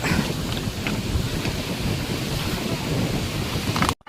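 Loud, continuous rushing wind buffeting the microphone with surging sea wave noise underneath, heard aboard a boat, steady throughout before cutting off abruptly.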